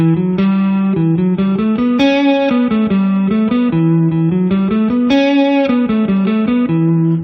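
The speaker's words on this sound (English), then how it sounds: "so that's the sound of melodic minor." A guitar runs up and down an E melodic minor scale of sustained, slightly driven notes in a smooth, even stream, played alone with no voices.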